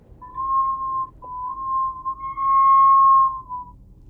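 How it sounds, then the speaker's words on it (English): A house window whistling in the wind, a thin steady tone that wavers and briefly breaks off, then returns slightly higher, faint against a quiet room background with no talking. "Also, that sound you're hearing is my window."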